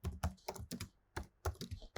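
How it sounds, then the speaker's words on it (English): Keys on a computer keyboard clack out a git command, about a dozen crisp, close taps in an uneven typing rhythm, with a short pause partway through. "Now type add command again and type git remote"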